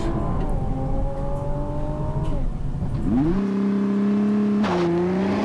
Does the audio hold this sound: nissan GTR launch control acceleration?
yes